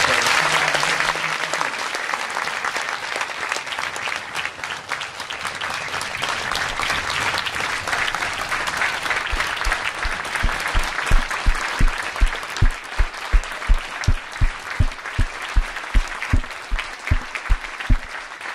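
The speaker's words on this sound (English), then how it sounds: "One more round of applause" A hall of fame ceremony crowd applauds its honorees with loud, dense clapping that later turns into a strong, steady rhythmic clap in unison, sharp beats repeating evenly over the last several seconds.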